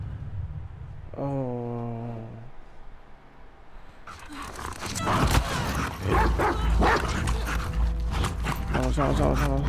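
Dog barking and whimpering in the video game The Last of Us Part II, a short yelping, whining bark early on, then loud clattering gameplay action with a voice shouting over it.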